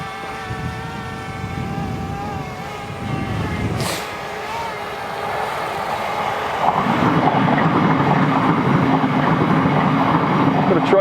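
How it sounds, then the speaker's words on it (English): A train rolls past during a drone flight on a windy day, a steady low rumble with sustained tonal hum that swells louder and fuller in the second half, with a brief whoosh near four seconds. "Got a train going by."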